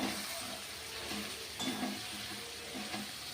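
Spices, cardamom and nutmeg powder among them, are stirred in a pot for chicken biryani, a soft, fairly faint sizzle with occasional gentle scrapes of a utensil against the pot and no talking.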